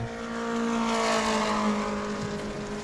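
A modified mini race car with a new engine being broken in drones through qualifying at New Smyrna, a sustained near engine note that swells and holds its pitch, with no talk.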